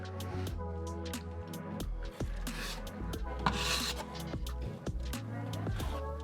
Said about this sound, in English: Watch this, I'm gonna pull really slow.